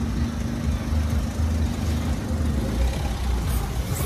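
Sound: car driving onto the pavement

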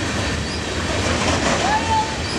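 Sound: freight train passing in Joliet

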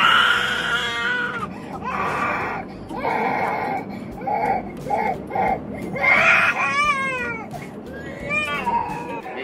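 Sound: baby crying on an airplane

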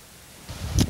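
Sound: wind blowing on the microphone

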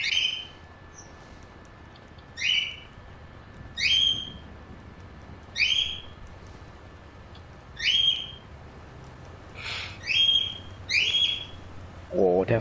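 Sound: bird calls in video game GTA V Online

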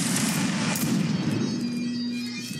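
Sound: musket volley fire in Mount and Blade video game

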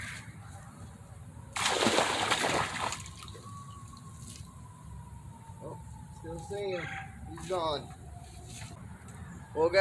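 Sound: creek chub fish released back into creek water, splashing

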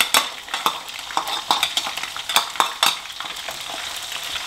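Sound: minced garlic frying in oil

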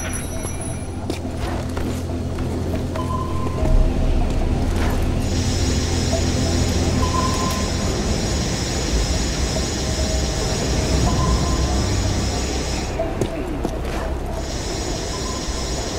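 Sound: military transport train passing in Tomb Raider video game

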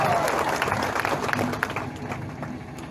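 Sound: audience applause at a political rally

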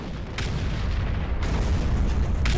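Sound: explosions and artillery fire in video game Garry's Mod

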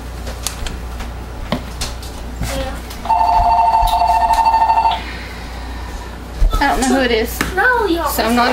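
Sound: telephone ringing

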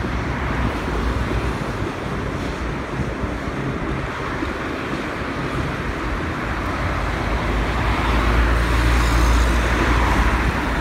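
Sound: car traffic on a big boulevard in Morocco

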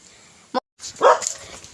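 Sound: puppy barking

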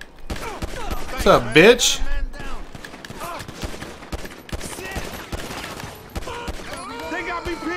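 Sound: gunshots from the video game Grand Theft Auto 5

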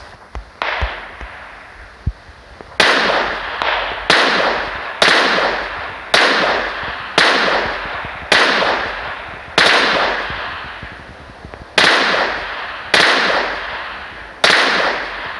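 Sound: gunfire from sniping in the video game PUBG Mobile

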